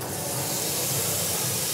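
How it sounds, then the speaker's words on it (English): Meat sizzles on a hot pot grill at a restaurant, a steady broadband hiss that holds at an even level throughout, with no talk over it. "Can you hear that sizzle?"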